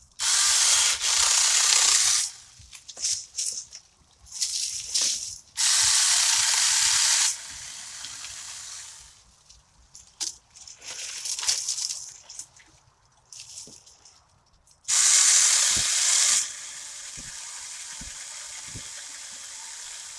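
A Saker 20V mini chainsaw cuts through a 3-inch diameter piece of wood in several loud hissing, buzzing bursts separated by quieter pauses and small clicks, close to the listener.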